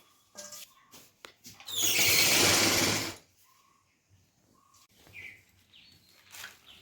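A sewing machine running in one loud close burst of about a second and a half, with scattered soft clicks and handling noise before and after it and a few faint high chirps.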